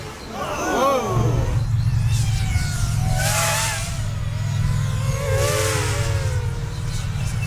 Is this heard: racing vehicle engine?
yes